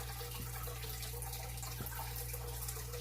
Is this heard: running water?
yes